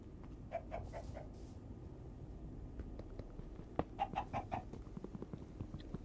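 Faint chickens clucking in a block-building video game, with scattered short clucks and a quick run of calls near the end over a low background hum.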